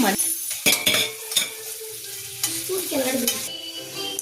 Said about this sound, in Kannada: ಈಗ ನಾನು 1 ಸ್ಪೂನು ಮನೆ ಬಟರ್ ಹಾಕೊತಾ ಇದ್ದೀನಿ. ಅದು ಮೆಲ್ಟ್ ಆಗಕ್ಕೆ ಬಿಡೋಣ.